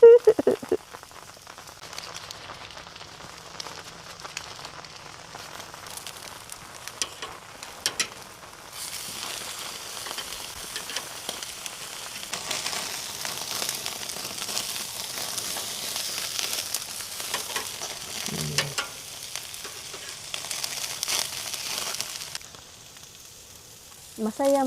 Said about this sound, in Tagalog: Nag-grill kahit ulan, oh.